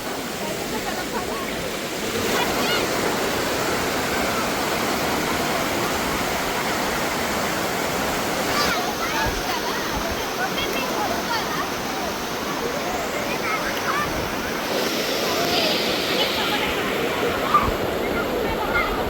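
Cold stream water rushes steadily outdoors near a resort, a continuous broad hiss and gurgle that holds at an even loudness throughout, with people's voices coming and going over it.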